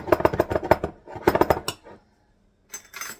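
A glass jar layered with M&M cookie mix ingredients, including baking soda, is shaken in bursts of rattling clinks, two longer runs, a pause, then a short final shake, close and fairly loud.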